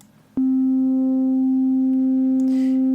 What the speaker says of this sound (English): you want it to be a sine wave that has some extra harmonics, like this one